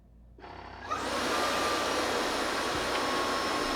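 A Roborock F25 wet dry vacuum spins up into its drying cycle, rising from a low hum to a steady, loud, close blowing whir that holds evenly to the end with no talking.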